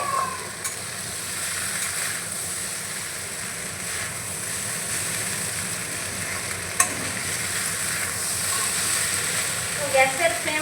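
Chow mein sizzles steadily as it's stirred in a pan over a medium gas flame, a continuous hiss punctuated by occasional sharp scrapes and clinks of the utensil.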